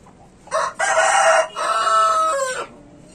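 An Aseel rooster crows loudly nearby, one full cock-a-doodle-doo in several drawn-out segments, with no other sound around it.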